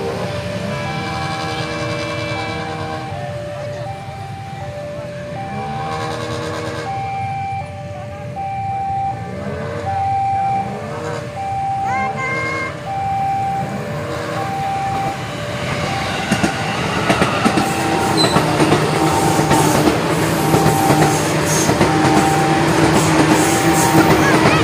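A KRL Commuter Line train rumbles past nearby while a crossing bell dings repeatedly in a steady rhythm, the rolling noise of wheels growing louder toward the end.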